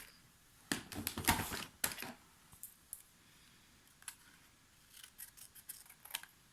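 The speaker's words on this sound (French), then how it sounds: "Je vais venir le couper tout de suite" Scissors cutting leftover card paper for a bookmark: a cluster of quick, crisp snips close by, then a pause and a few more sparse snips, with no talking.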